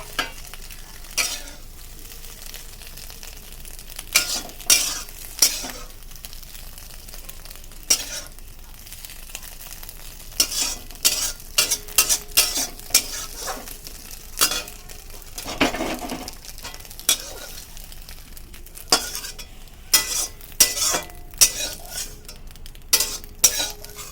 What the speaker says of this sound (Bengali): তারপরে আমরা ডিমটা নামিয়ে নেব, ভালো করে নাড়িয়ে চাড়িয়ে।